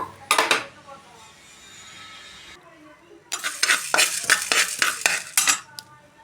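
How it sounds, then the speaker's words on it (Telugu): Whole spices for a Godavari-style small-fish curry masala being stirred and roasted in a hot kadai, with dry scraping and rattling spoon-on-pan clatter in bursts and a quieter stretch of light sizzle between them. "ఇందులో మనం తీసుకున్నటువంటి దినుసులు ఉన్నాయి కదా, ఇవి వేసేసి దోరగా వేయించుకుందాము"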